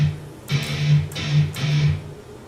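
Plucked guitar notes from the lower guitar part of a theme in repeated groups of three, a quick triplet pattern played three times with short gaps, clear and close.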